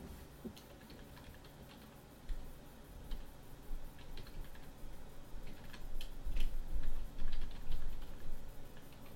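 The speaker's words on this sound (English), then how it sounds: "Now it's as simple as typing in an email address here." Soft, irregular clicking of computer keys in short bursts, quiet at first and growing slightly louder, with no voices.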